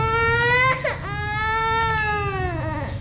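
A young child cries loudly and continuously, with high wavering wails and sobs near the listener, dipping briefly before rising again; no one speaks over it.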